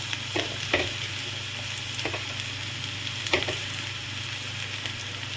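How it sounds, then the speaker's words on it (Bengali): Okra tossed into a pan of frying potatoes and onions, a steady close sizzle with a few scraping stirs and clicks over a low constant hum; nobody speaks. "এবারে আমি ঢ্যাঁড়সগুলো দিয়ে দেবো এতে।"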